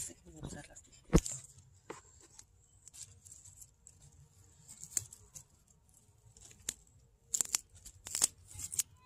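Scissors snipping vegetable plants while harvesting in a home garden, with scattered close clicks and crisp cuts amid soft rustling of leaves, faint overall, and a brief spoken remark.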